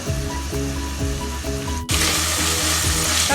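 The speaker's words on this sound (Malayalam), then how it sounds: "കയ്പക്കായ ഇതില് നന്നായിട്ട് വഴന്ന് വന്നിട്ടുണ്ട്." Bitter gourd sautés in oil with a constant sizzle under a steady musical backdrop, and the frying noise grows sharply louder and brighter partway through; no one speaks.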